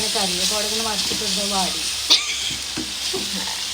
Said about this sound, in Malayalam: ഉള്ളി വാടിക്കൊണ്ടിരിക്കട്ടെ